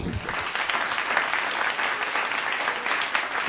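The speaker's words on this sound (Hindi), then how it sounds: "दूसरी पंक्ति पर आप लोगों की तालियां मिल गई" An audience at a Hindi kavi sammelan poetry recital claps steadily in a dense, even burst of applause that fills the room for a few seconds.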